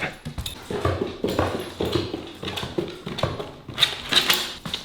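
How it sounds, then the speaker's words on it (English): A young puppy scuffles and whimpers close by during a morning greeting, with soft yips, paw taps and movement noises running throughout. "That is my dog."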